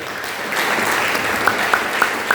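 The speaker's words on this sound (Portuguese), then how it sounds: "Vamos receber o pastor Lucas com as palmas bem fortes" A church congregation at a Thursday evening worship service claps loudly to welcome Pastor Lucas. The steady, dense applause fills the room, with a few sharper claps standing out near the end.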